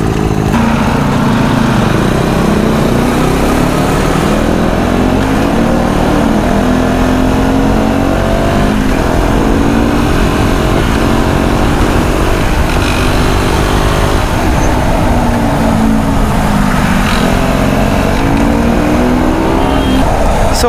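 A motorcycle engine drones steadily while riding on the road, with pitch rising and falling through gear changes and revs, loud and continuous under wind noise for about twenty seconds.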